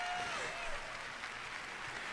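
Faint applause from a crowd at a Bethesda E3 2019 presentation, steady clapping throughout with a voice briefly audible beneath it.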